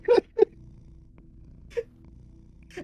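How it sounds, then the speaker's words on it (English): Quiet, contented purring from a video-game cat in KinnikuNeko: Super Muscle Cat, a low steady rumble running underneath, broken by four short, brighter chirp-like cat calls spaced irregularly across the stretch, with no voices. "Listen to happy cat noises. The very quiet purring that was going on."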